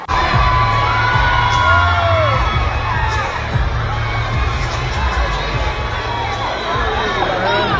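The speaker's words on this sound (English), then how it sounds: "people reacted. They screamed so much" A large crowd at an awards event screams and cheers loudly and continuously, with shouts and whoops rising over a dense roar.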